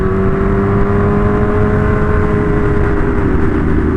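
BMW S1000RR motorcycle accelerating hard on a ride, a loud sustained engine whine rising steadily with road roar underneath, no voices.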